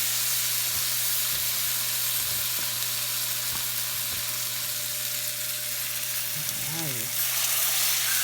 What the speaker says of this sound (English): Let's add these pork chops.